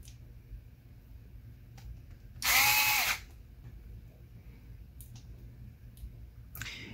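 A power screwdriver drives a screw into a Lenovo Ideapad Flex 5 laptop during a drive swap, one loud whirring burst of about half a second amid faint clicks and handling in a quiet room.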